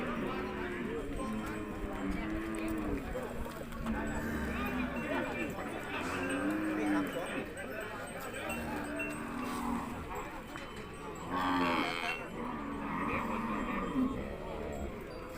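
Cattle at the Kusuman livestock market in Sakon Nakhon, Thailand, including Charolais, Brahman and Thai breeds. Low lowing and hoof clops rise through steady crowd chatter, with someone talking continuously over the scene.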